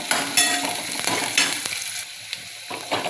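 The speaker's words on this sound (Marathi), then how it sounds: "कांदा व लसूण लालसर परतून घ्यायचे आहे." Onion and garlic sautéing in a pan, bright crackling sizzle broken by repeated scraping strokes of a spatula, close up and uninterrupted by speech.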